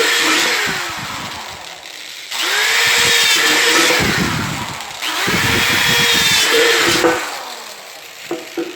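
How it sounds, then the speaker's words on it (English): A power drill whines through metal in three long bursts, each rising to a loud high-pitched grind before spinning down, with short pauses between. "it's time to drill some holes."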